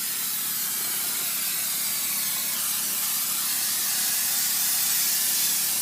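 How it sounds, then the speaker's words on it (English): Spray can hisses steadily and close up while the corners of an air handler's insulation are sprayed during a South Florida repair, one unbroken hiss lasting several seconds. "I'm going to spray my corners because I want a good tight fit."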